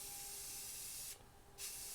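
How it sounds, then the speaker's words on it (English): Red spray paint hissing from an aerosol can onto push mower parts during a Murray 20 rebuild, a loud close steady hiss that stops for a moment and then resumes. "Spray paint will bubble up on you if you're not careful."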